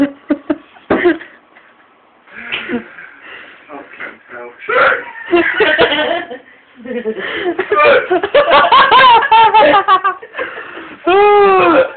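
A man hiccuping repeatedly, short abrupt gulps breaking up between bursts of talking and laughter, close and loud.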